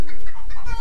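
Chickens in a backyard coop give a short, close, loud burst of clucking and cooing, with a bright higher call near the end and no talk.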